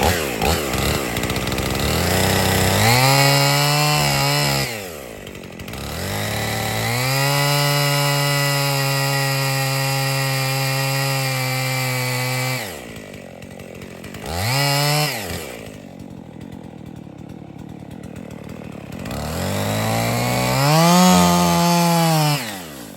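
A chainsaw cuts tree logs into 8-foot lengths on rural land. The engine roars loudly under load, drops to idle between cuts and revs back up, in several long sustained passes close by.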